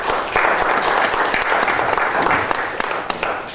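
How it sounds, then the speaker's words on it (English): An audience at the first annual Williamson Orthopedic Associates Fall Symposium breaks into a full round of applause. The clapping is loud, dense and steady throughout, with no voice over it. "if y'all can give him a round of applause"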